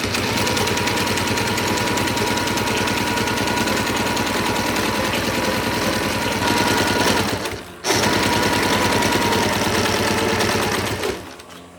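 A sewing machine stitching the seams of a UV sacrificial sun strip onto a genoa or jib sail: a loud, continuous, fast mechanical chatter that stops briefly once and then cuts off near the end.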